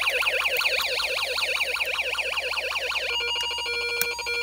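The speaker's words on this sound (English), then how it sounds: "it's supposed to be the European siren" An electronic European-style siren from a Snap Circuits Arcade kit warbles in rapid, even up-and-down sweeps, then switches abruptly to a harsher, steady buzzing tone with a sharp click near the end, loud and alone.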